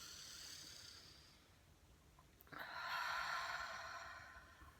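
A slow, deep breath drawn in and let out, with a soft airy inhale followed by a louder, fuller exhale, close and alone with no talking.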